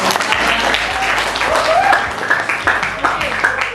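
A classroom audience breaks into applause, a dense, loud burst of many hands clapping that fills the whole moment, with voices calling out over it.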